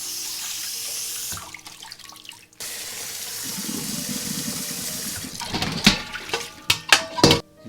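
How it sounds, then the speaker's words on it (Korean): Tap water runs over salted napa cabbage being rinsed in a basket, a steady rush broken by a brief pause, then splashing and handling noises as the leaves are moved under the stream. "흐르는 물에 한번 헹궈 주시고"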